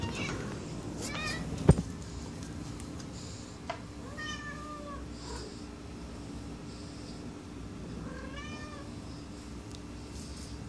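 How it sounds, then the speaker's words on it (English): A cat named as female meows softly several times in a quiet room, the drawn-out calls spaced apart over a low steady hum, with a brief thump near the start. "we shall witness the mating ritual of one Sarah, the cat"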